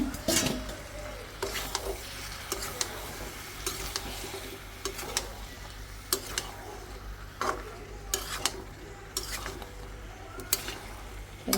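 Chunks of bottle gourd hiss and crackle in a hot pan of spiced oil with egg, while a spoon scrapes and stirs in irregular bursts throughout, close and steady with no talking.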